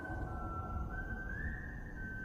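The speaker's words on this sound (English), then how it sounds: "I am not a fan of the whistling." Eerie whistling in a horror film plays as a thin, steady, sustained tone above a low rumbling bed. It sits fairly faint in the mix and carries on without any speech.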